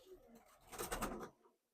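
A pet pigeon gives a single brief, soft coo close by, with nothing else around it.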